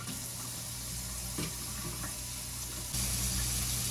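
Hot water gushes steadily from a kitchen tap into a sink, a continuous loud hiss and splash up close that swells slightly louder near the end, with no voices.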